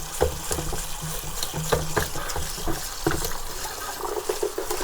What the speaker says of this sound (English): Eheim Experience has a lot of these lines here, and there's a lot of muck and dirt that gets stuck in them, so it needs a good rinse